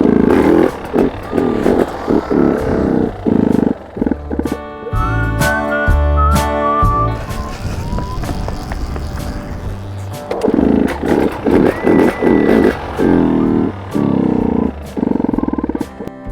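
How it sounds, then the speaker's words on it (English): A 2020 KTM TPI dirt bike with its battery unhooked is pushed for a bump start, its engine giving loud, choppy roaring bursts and sputters up close, with clattering between attempts. "I'm gonna see if I can bump start this guy."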